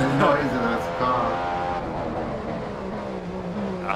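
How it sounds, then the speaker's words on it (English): A car engine roars loudly and steadily, its pitch shifting slightly, with a voice speaking over it. "The noise of this car."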